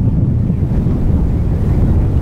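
Strong wind buffets the microphone on the Pacific Ocean coast during a kite festival, a loud, steady low roar with surf-like rushing throughout and no voices.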